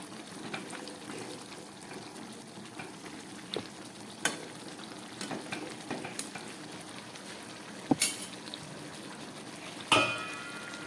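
Chicken curry with potatoes and masala water sautés in a pan, giving a soft steady sizzle and bubbling with sharp clicks and clanks of a spoon or lid toward the end, close and without voices.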